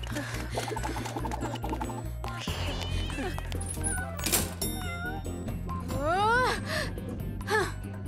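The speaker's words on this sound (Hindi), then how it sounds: "एक बिल्ली ऑफिस में भी चली गई" A cat that has wandered into an office gives several drawn-out, rising and falling meows near the end, heard over a steady background of other sound.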